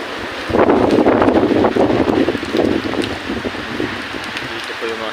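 Heavy rain pours down steadily at night, a dense, loud hiss and patter close by that eases somewhat toward the end, mixed with gusty wind noise on the microphone.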